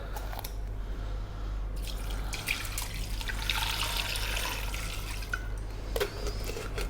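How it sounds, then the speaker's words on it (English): Water pours steadily into a pressure cooker pot holding green cardamom and a whole dried black lime for a Gulf Arab dish, a close, continuous splashing trickle with brief spattering drips and no talking. "We're going to add water."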